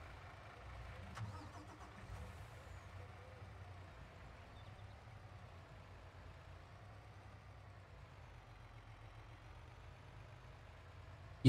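A vehicle in Farming Simulator drives off, its engine starting and then humming at a low, steady pitch, fairly quiet, with a sudden loud bump at the very end.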